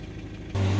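A Ford Transit Connect 1.5 van engine catches and settles into a steady low idle, close and continuous after a brief quieter moment.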